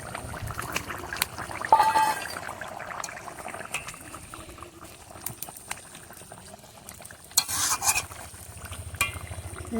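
Fish goes into a bubbling curry with potatoes, kohlrabi and sun-dried lentil dumplings, followed by stirring: liquid bubbling and sloshing close by, scattered clinks of a utensil and a louder splash or scrape near the end, no speech.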